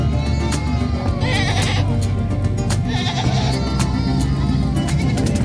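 Goats bleating at the San Carlos City livestock market, several animals calling repeatedly and loudly over a steady crowd and market din.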